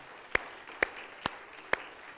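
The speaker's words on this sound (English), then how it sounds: "We just want to give you a hand clap of praise." A church congregation claps for the fathers present: five sharp, evenly spaced claps in a steady beat, fairly faint, over quiet room tone.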